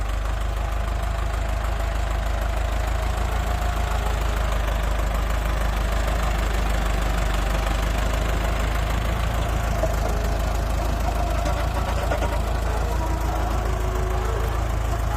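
A Ford 6640 tractor engine runs steadily at low rpm, a loud, continuous diesel rumble with a faint knocking edge that holds throughout, with no talking.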